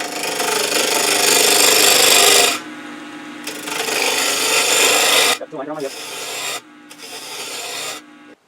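Wood turning on a lathe as a gouge takes shavings off a door stopper blank, a loud, steady rasping cut in long passes broken by short pauses, very close.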